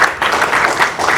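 Loud audience applause at a cybersecurity conference, a close, dense burst of clapping that dips briefly and then swells again, with no voices over it.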